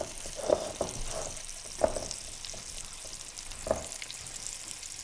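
Steady sizzling of meatballs frying in a pan, with a few soft clicks and taps of utensils against the cookware.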